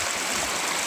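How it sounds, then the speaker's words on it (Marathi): Water released from a dam pours in a continuous rushing flow, a steady broad hiss like a stream or small waterfall, with no speech. "हे पाणी सतत का फ्लो चालू आहे"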